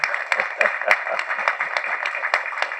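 Audience in a hall applauding during a speech at a film audio launch, a steady crackle of many hands clapping at close range with no one speaking over it.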